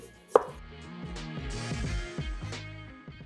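A sharp knife peels a butternut squash, with one crisp cut at the start followed by soft scraping strokes, close and fairly quiet.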